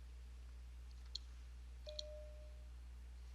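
Soft mouse clicks on a computer as a query is run in database software, a quick double click and then another pair about a second later, faint over a steady low electrical hum in a quiet room.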